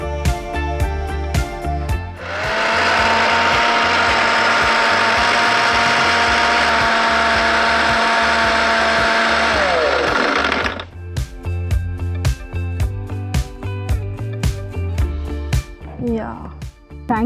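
A mixie blender whirs loudly and steadily for about eight seconds as it blends a papaya, chia seed and basil smoothie, then winds down. Scattered clicks and kitchen handling come before and after.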